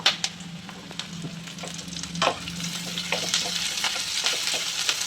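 Tomatoes tossed into a Chettinad liver fry with curry leaves, sizzling steadily in the pan while a spoon stirs with scattered close scrapes and clicks.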